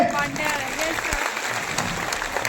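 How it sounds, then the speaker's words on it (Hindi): An audience in a theatre aboard a cruise ship claps for a participant called up on stage, giving brief, moderately loud applause with voices and crowd murmur mixed in. "तालियां इनके लिए"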